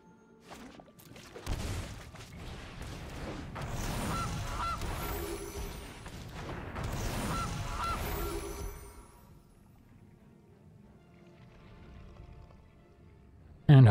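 Goose honks sound as a card effect in MTG Arena, a run of loud, busy honking cries stacked over several seconds before dropping off to a quiet stretch.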